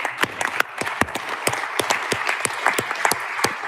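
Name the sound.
audience applause for hackathon participants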